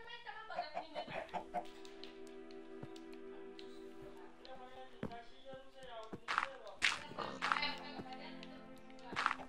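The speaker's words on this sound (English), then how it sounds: "Sorry, chicken, move!" Minecraft chickens cluck in a game world, a string of short clucks and squawks mostly bunched toward the end over steady background game music, with a player talking at points.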